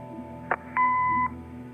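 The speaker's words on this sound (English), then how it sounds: "Leave a message after the beep." A short electronic blip followed by a steady half-second beep tone from an answering machine in the video game Kathy Rain, clear and close over a faint low hum.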